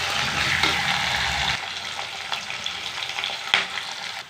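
Onions fry in oil with curry leaves for sundakkai kuzhambu, giving a dense, close crackling sizzle that thins out after a moment, with a few stirring taps and scrapes.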